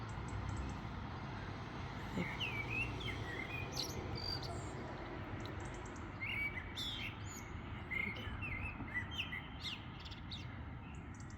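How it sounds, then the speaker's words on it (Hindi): Birds chirp and call from trees around a home at dawn, scattered bright tweets over a constant bed of cricket trills, faint and distant, with no talking. "सुन रहे हैं माशाल्लाह परिंदों की आवाज़ें।"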